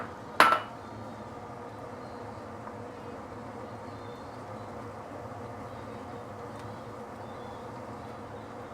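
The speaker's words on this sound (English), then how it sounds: "I'm going to put in the pork belly." Pork belly dropped into a pot of simmering canned braise gives a single sharp metallic clank near the start, then a quiet steady simmer and a faint click later.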